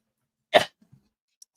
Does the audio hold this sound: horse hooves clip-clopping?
no